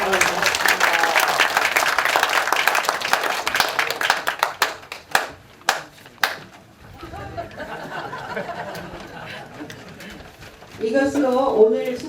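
An audience at a literary arts festival lecture breaks into dense applause that swells then thins into scattered individual claps, ending with chatter and a few birds calling nearby.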